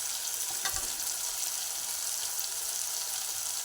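Chicken masala and fried taro root (seppankizhangu) sauté in a pan for a gravy, giving a steady, close sizzle of frying that runs unbroken throughout with no talking.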